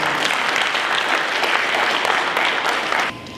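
A crowd gives loud, sustained applause as a speaker walks on to address the gathering, a dense even roar of clapping that drops off abruptly near the end.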